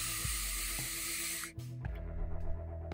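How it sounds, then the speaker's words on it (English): A vaporizer being vaped gives a muffled, hissing gargle, a steady airy draw for about a second and a half, then a short pause and a bubbling, crackly second pull, close and fairly quiet. "you will have heard the kind of muffled gargle of a vaporizer."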